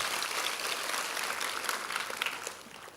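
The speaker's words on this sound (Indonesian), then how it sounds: "Coba beri tepuk tangan dulu yang meriah buat Tuhan." A church congregation in Jakarta applauds during a sermon, a faint, steady wash of many clapping hands heard from a distance that tapers off at the end.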